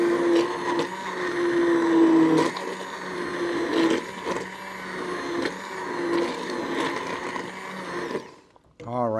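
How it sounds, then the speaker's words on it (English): A hand blender whirs through tomato bisque in a pot, a loud steady motor drone with brief pitch dips as it churns, running for about eight seconds before cutting off. "we're going to take our hand blender and blend this until it's smooth"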